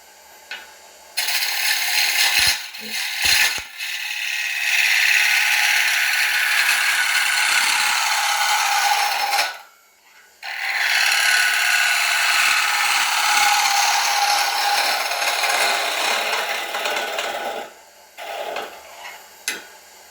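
A wood-turning gouge cuts a wooden bowl on a lathe, working from the rim toward the centre. The cutting is loud and harsh, with long continuous passes broken by short pauses, and there is no talking.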